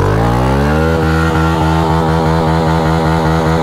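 A dirt bike engine revving loudly up close, a steady buzzing drone rising in pitch and then pulsing with a rapid throbbing rhythm, with no other sounds.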